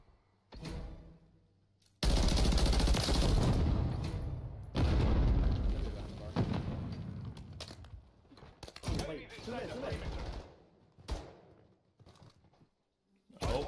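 Gunshots from a ranked-play match in a video game, sharp loud bursts and a sustained volley between pauses, with players talking over the fighting.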